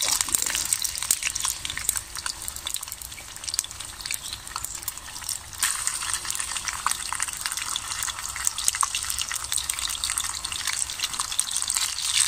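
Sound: bacon frying in a stainless steel Swedish army mess kit

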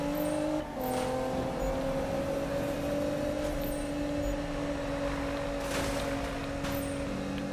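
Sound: Nissan GTR car engine in Need for Speed video game

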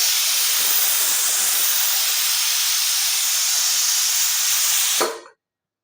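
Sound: pressure cooker hissing steam

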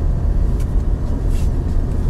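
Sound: new Lada Niva car interior noise while driving

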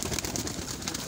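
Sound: pigeons cooing

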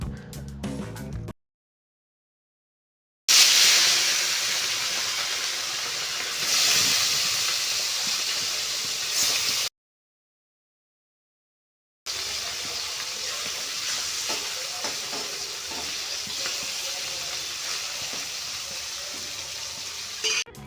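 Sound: small fish frying in oil

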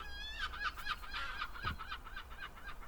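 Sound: seagulls calling in Edinburgh

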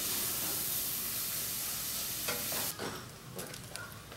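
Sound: stirring and sizzling rice with a can of green corn

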